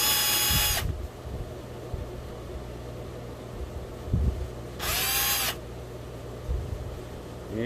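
Two short whirring bursts from a power screwdriver backing out shock mount screws on an Scx24 RC crawler, with quiet handling noise and light clicks in between.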